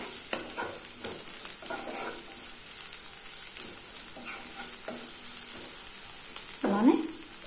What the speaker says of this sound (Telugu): ఈ ఆనియన్ కూడా ఫ్రై అయిపోయింది.